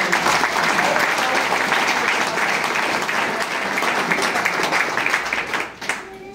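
An audience at a company marketing meeting in Dibrugarh claps continuously in a dense, loud burst of applause that holds steady, then quickly fades out near the end.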